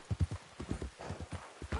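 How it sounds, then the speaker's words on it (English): Hooves clip-clop in a quick, uneven rhythm from a horse ridden in the game Red Dead Redemption 2, close and fairly loud with no talking over it. "I almost ran that over with my horse."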